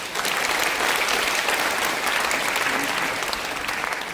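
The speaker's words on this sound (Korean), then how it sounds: "하나님께 영광의 박수 올립니다." Sustained applause from a crowd of missionaries and pastors fills a church conference hall at a spiritual renewal conference, dense and steady clapping throughout with no break.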